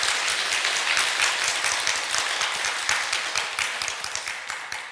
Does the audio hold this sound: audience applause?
yes